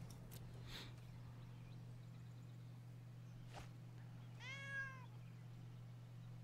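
A single cat meow, short and clear at a moderate distance, rising then falling, over a steady low hum with a couple of soft knocks before it.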